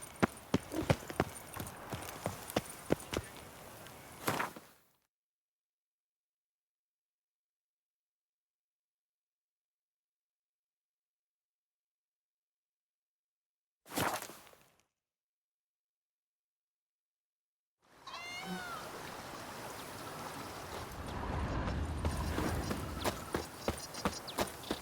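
Roach, the horse in The Witcher 3, galloping with rapid rhythmic hoofbeats at the start, then silence broken by a brief burst, and a longer stretch of hooves and movement returning near the end.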